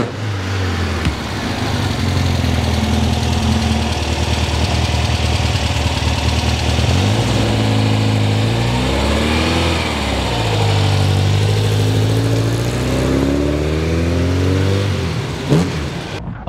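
A bare-shell restored Volkswagen 21-window bus engine idles with a loud, steady rumble, then revs up and down in several rising and falling pulls before settling back, close and with no talking.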